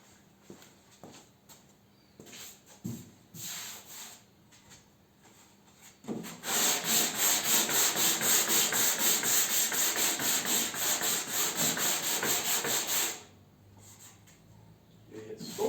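Hand sanding of body filler on a car panel: a few short rubbing strokes, then a loud, sustained stretch of scratchy back-and-forth rubbing for about seven seconds before it stops.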